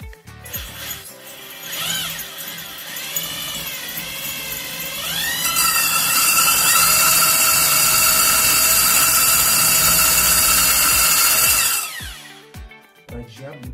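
A power drill bores a hole into a wall for an electrical socket. It gives a loud, continuous whine that climbs in pitch, holds steady and strong through the middle, then cuts off near the end.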